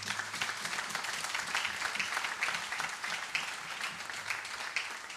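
Audience applause at a closing ceremony for a tax seminar, a dense, even wash of clapping from many participants in a hall, moderately loud and continuous throughout.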